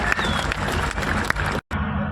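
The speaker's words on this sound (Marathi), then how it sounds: "टाळ्या करा टाळ्या सगळ्या परत सगळ्यांनी एकदा" A crowd at a village fair wrestling bout in Pimple Nilakh, Pune claps in a loud burst of scattered applause, broken by a brief cut and then resuming.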